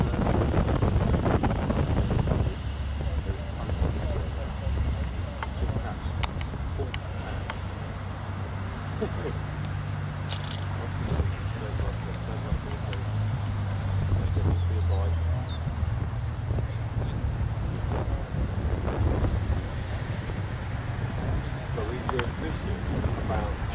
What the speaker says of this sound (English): Very windy at the moment. Very windy.